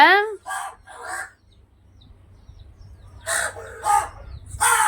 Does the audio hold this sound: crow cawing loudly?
yes